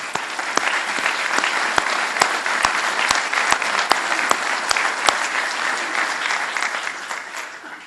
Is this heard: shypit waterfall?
no